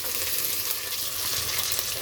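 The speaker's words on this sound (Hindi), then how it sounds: "उस तरफ पत्नी जी ने तड़क दिया है तड़का" Tadka tempering sizzling steadily in a hot pan in a home kitchen, a continuous close frying hiss with no pauses and no talk.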